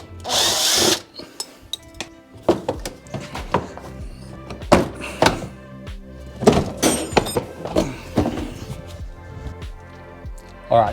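A power drill whines in short, repeated bursts with pauses and clunks between them while backing out bolts from a headlight bracket on a BMW X5 E70 30d, loud and close.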